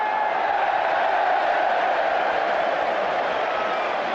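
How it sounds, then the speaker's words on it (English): A packed football stadium crowd at a Newcastle United versus Brentford match roars steadily after a free kick is given, a dense, sustained wash of voices heard at a distance with no single voice standing out. "the crowd responding to a decision that they've been waiting for"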